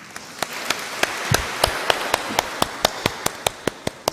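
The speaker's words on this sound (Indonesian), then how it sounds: "Kita beri tepuk tangan." A church congregation claps during a Christmas service, a sparse, steady run of individual sharp claps at a regular rhythm, fairly close, with no talking over it.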